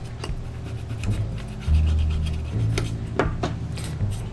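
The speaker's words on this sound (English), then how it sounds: "Give it a good erasing," An eraser rubs back and forth over the gold contacts of an NES game cartridge, making close, dry scraping strokes in an uneven rhythm with a few light knocks.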